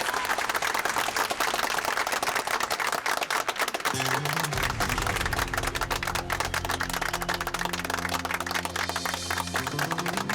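Audience clapping as a singer is invited on stage on a television drama set, brisk rapid claps throughout, with a low tonal music-like sound entering partway and continuing under the clapping.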